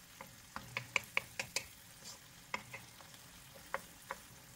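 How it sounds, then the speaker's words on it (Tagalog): Pork and string bean adobo in a pan, seasoned with ground pepper, simmering with scattered sharp pops and light clicks at an uneven pace, fairly faint over a quiet background with no voices. "At hayaan lang natin kumulo."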